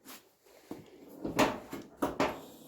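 Door on a square-body Chevy truck slammed shut several times, giving sharp, loud thuds at a steady pace with faint clatter between them.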